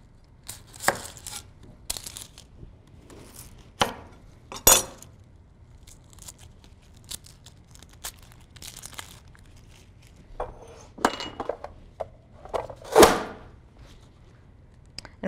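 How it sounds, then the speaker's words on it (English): A knife chops a yellow onion on a cutting board in a home kitchen, giving scattered crisp strokes and a few quick clustered cuts with quiet pauses between them and no talking. "I'll go ahead and chop up this onion"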